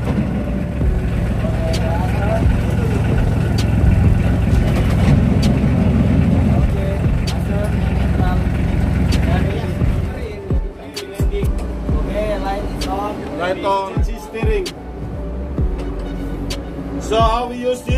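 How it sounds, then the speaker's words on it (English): A lifeboat engine during an abandon-ship drill turns over and runs with a steady low rumble, then settles into a rougher idle with knocks and clatter while a person speaks over it. "We will start the engine."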